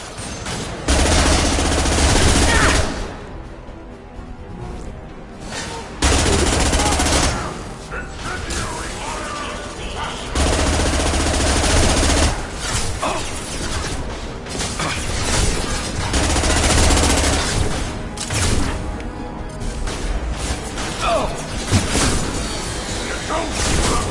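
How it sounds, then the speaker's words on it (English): Rapid gunfire and heavy weapon blasts from the sci-fi shooter Mass Effect 2, Legendary Edition, sustained bursts layered with game voices and combat effects throughout, loud and dense. "Firing a high-impact shot."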